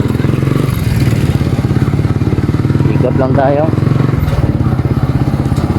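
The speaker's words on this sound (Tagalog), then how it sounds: "Oh, ganda ng motor boss." A motorcycle engine runs close by on a rural road trip, a steady pulsing putter with a brief rev, while men chat over it.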